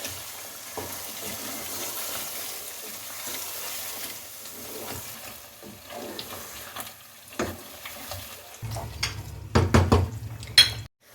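Chicken korma frying with poppy seed and almond paste and crushed onion: a faint, steady sizzle under occasional utensil clinks, building to louder scraping and stirring near the end.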